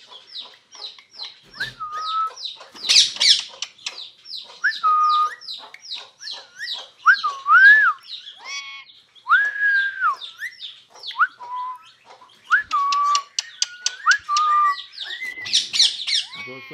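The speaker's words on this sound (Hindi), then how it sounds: "हमारे तोते को बोलने के लिए सेटअप देखें माशाल्लाह, कैमरे में भी देखता है और बोलता भी है" A pet parrot at home gives a busy run of sharp chirps, rising whistled notes and harsh squawks, close and fairly loud, repeating in quick bursts with short gaps and no human voices.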